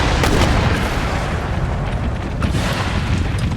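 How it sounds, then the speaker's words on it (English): Artillery volleys in the strategy game Empire: Total War, a loud, dense barrage of overlapping booms and rumbling blasts filling the whole stretch without a break. "All of my artillery just open fire on their mortars."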